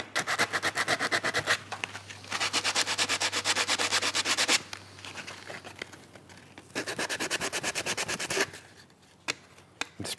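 Sanding a plastic model part by hand: rapid, rhythmic scratchy strokes in bursts, loud and close, pausing briefly between runs and ending with a few scattered rubs.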